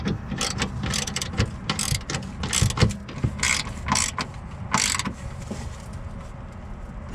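A ratchet clicks in repeated bursts while tightening bolts on the power steering gear box of a 2002 Jeep Grand Cherokee, close and moderately loud, with short pauses between strokes and no talking.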